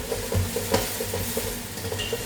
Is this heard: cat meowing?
no